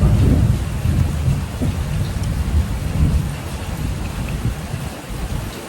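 Steady heavy rain with low rolling thunder through a storm, a dense broadband wash close by that stays loud the whole time with deep rumbles swelling underneath.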